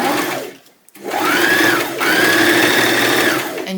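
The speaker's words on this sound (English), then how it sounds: "is caught underneath the sewing machine so that you're not sewing your neckline together" A sewing machine stitches bias tape along a garment neckline, running loud and steady in two sustained bursts with a brief pause between, its motor whine rising as it speeds up.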